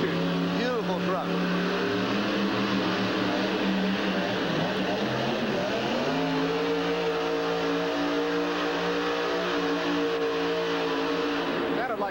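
Monster truck engine of about 1,800 horsepower at a 1989 USHRA event in Hartford, droning steadily with a pitch that sags and settles midway, loud throughout and overlaid with an arena announcer's talk.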